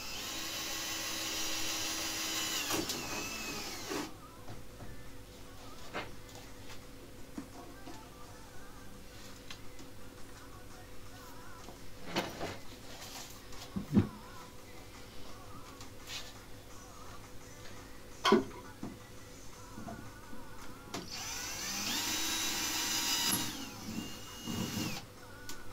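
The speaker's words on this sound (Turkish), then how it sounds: "takmış olduğumuz aparatları önce yerde bir delelim arkadaşlar" A power drill bores holes through metal mounting brackets on the floor for a recycled bookshelf build, whining loudly at the start and again near the end, with quieter handling, ticks and knocks in between.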